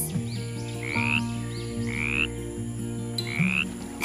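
Frogs croak in a repeated chorus of rising, chirping calls over a steady low pulsing drone, close and fairly loud with no talk.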